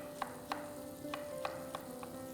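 Garlic, onions and mushroom stalks fry quietly in butter in a pan, giving a faint, steady sizzle with a few soft scrapes of stirring spaced through it.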